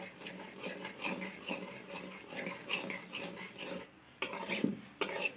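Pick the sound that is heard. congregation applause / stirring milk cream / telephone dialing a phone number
stirring milk cream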